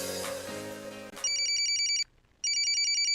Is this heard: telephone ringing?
yes